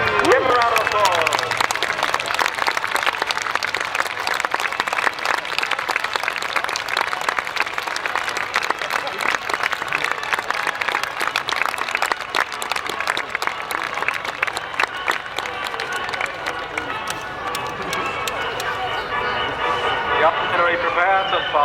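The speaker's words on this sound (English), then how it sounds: "Give her a round of applause." An outdoor crowd claps steadily at a World War II historical reenactment, the dense, sustained applause running throughout with some voices mixed in.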